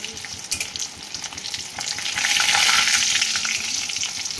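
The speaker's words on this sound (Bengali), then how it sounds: "তেলটা গরম হয়ে গিয়েছে দেখুন, এইবার মাছটা আমি দিয়ে দেবো কড়াইয়ে।" A pomfret fish hits hot oil in a wok, and the frying swells into a loud, steady sizzle after a few seconds of lighter crackling.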